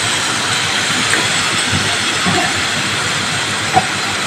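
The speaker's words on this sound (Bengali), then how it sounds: "এবার পটলটা তেলের মধ্যে আমি একটু নেড়ে নিয়ে" Sliced pointed gourd sizzles steadily in hot oil while being stirred, a dense continuous hiss with faint scraping throughout and one small sharp tick near the end.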